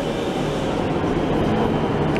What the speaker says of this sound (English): There's another train, but it's also not ours.